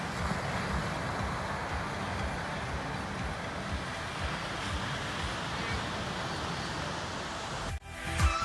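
Sea surf washes steadily onto a beach in Havana, Cuba, a continuous broadband rush of small waves, with a brief bump of handling noise near the end.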